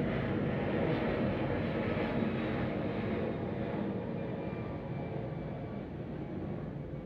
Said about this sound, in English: It's an airplane again, so I'll just pause for a moment.